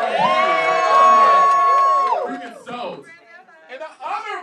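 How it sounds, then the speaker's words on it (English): A crowd at a birthday celebration in a store cheers for Shara, with a long high whoop followed by scattered shouts and excited voices close by. "Give one big round of applause for Shara."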